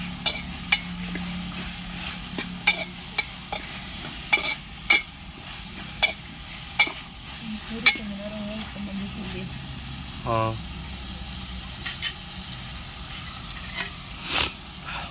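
Chicken curry cooking in a pot over a wood-fired stove, with steady low frying and sizzling, stirring scrapes and sharp utensil clacks at irregular intervals, faint clatter in the background.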